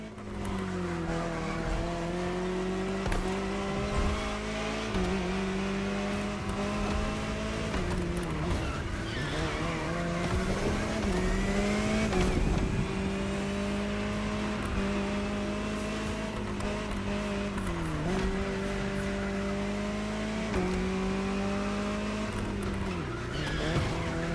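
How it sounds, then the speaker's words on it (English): Jaguar CX-75 concept car in The Crew Motorfest, its engine droning steadily with pitch rising and dipping through gear changes, loud and continuous with occasional tire squeal. "Jaguar CX-75 concept."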